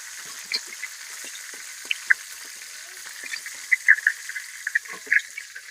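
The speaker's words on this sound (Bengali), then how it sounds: "মাছটা ভালোভাবে লাল লাল করে ভেজে নিতে হয়" Tilapia fish fries in a pan, a low sizzle punctuated by sharp, scattered pops and crackles that grow busier toward the end.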